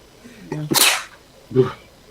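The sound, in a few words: sneeze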